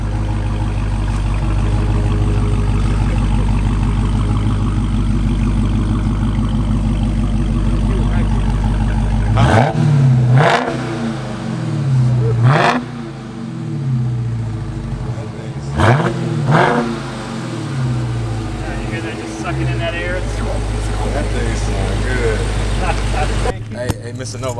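Dodge Hellcat with a manual transmission idling with a deep, loud rumble, then revved hard several times in sharp climbing bursts that fall back to idle, with people talking nearby.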